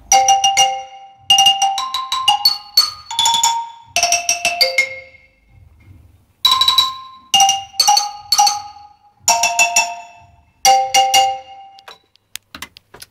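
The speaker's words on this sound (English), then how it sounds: "And oddly enough, there's even a xylophone solo on this track," A xylophone solo from a pop track sounds in quick bursts of bright, ringing struck notes, separated by short pauses and played in rapid runs, close and clear with no voices.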